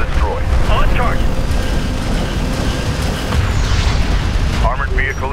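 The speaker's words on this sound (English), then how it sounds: "Armored vehicle has been destroyed." An armored vehicle explodes in the desert warfare game Homeworld: Deserts of Kharak. A loud, sustained rumbling blast with crackling debris rolls on under battlefield noise, and radio-style voice chatter sits over it.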